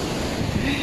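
Strong ocean waves wash steadily onto a beach at a resort in Nasugbu, Batangas, a loud continuous surf roar mixed with wind buffeting the microphone.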